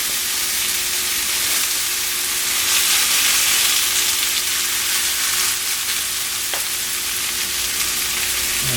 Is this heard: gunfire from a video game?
no